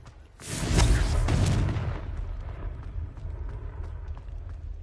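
The Confringo explosive spell in Hogwarts Legacy goes off as a single loud blast that swells for about a second, then fades into a long, dying rumble.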